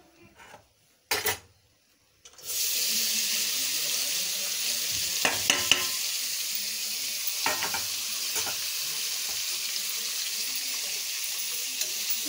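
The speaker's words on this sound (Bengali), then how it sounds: "এবার আমি উচ্ছে আলুটা ভেজে নেব।" Bitter gourd and potato frying in a pan, a steady loud sizzle that starts after a couple of seconds of near silence and a brief clatter, with occasional stirring knocks, no talking.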